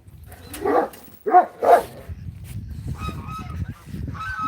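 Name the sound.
noisy goose honking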